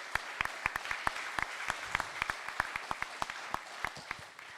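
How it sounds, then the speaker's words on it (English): Applause from an audience at a national grand final awards event, steady clapping with distinct sharp individual claps standing out, fairly close and sustained throughout. "Give her a big round of applause."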